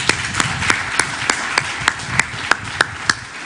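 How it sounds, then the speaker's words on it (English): An audience at the live Pontaq Portfolio Day 2022 event applauds the Pontaq team, with sharp claps landing in a steady, even rhythm over a continuous wash of crowd noise. "Can we please cheer for the Pontaq team that's put this together?"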